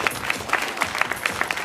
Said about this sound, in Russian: Поприветствуем также аплодисментами.